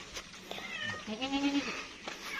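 A cat on a mountain farm meows once with a drawn-out, rising and falling call, close and fairly loud over faint background noise.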